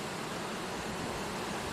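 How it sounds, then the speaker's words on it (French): A stream flows steadily along a walking path, its continuous broadband rush of running water filling the background, with no voices. "qui fait toujours ces bruits d'eau qui coulent"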